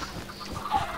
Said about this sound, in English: All these fucking chickens, bro.